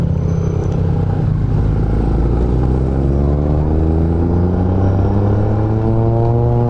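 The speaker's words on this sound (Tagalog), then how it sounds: "So traffic, oh. Daming sasakyan." Steady rumble of heavy road traffic at a festival in San Jose City, Nueva Ecija, Philippines, with many cars and motorcycles passing close by, engines droning and revving continuously throughout with no talk.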